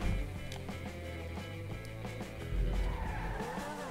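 A Grotti X80 sports car drifts in GTA V, its tires skidding and squealing over a loud engine roar, with short scrapes and bumps along the way.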